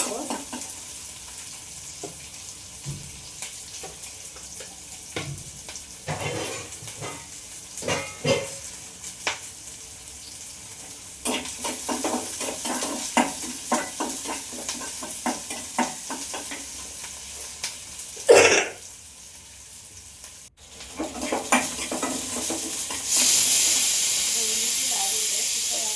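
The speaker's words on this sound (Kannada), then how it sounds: "ಈ ಕರಿಬೇವು ಹಾಕಿದ್ಮೇಲೆ ಈರುಳ್ಳಿ ಹಾಕಿರ್ತೀನಿ. ಈರುಳ್ಳಿ ಚೆನ್ನಾಗಿ ಫ್ರೈ ಮಾಡ್ಕೋಬೇಕು." Onions frying with curry leaves in a pan give a steady sizzle and hiss, with stirring clatter, a sharp burst of spattering near the end and a louder steamy hiss at the close, under a voice talking intermittently.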